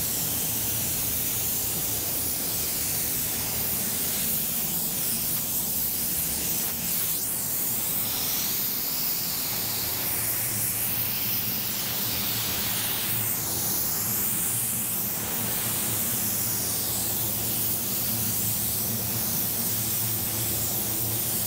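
Paint sprays onto a car from a spray gun in a steady, unbroken hiss that stays at an even level throughout, with no talking.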